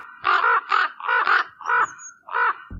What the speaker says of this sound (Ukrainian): Крук безсумнівно є найбільший птах з родини воронових.